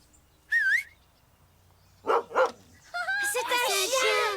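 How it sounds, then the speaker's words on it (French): A cartoon dog gives a couple of short barks and a whimpering yip, with gaps of quiet between them. "C'est un chien. Il est mignon."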